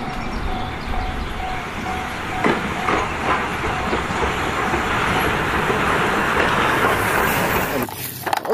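A green toy locomotive plays a train sound effect, a dense, steady rumbling hiss that holds evenly for about eight seconds before cutting off abruptly.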